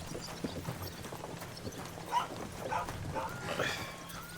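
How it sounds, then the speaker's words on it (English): A dog barks a few times in a PS5 open-world game, medium-far and moderately loud, over ambient game sound with horse hooves clip-clopping. "I hear a doggo."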